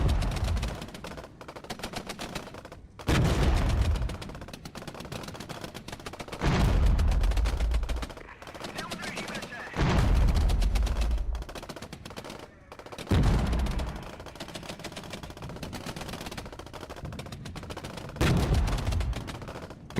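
Troops exchanging fire in the Regiments video game: dense, continuous rattling gunfire with bursts that swell and fade every few seconds, heavy low booms underneath and a faint voice now and then.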